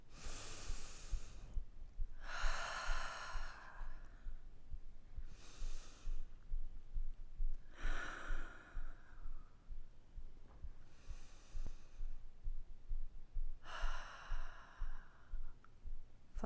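Slow, deep breathing during a standing vinyasa yoga flow, with three long rounds of loud, airy inhales and exhales heard alone at close range and separated by short pauses.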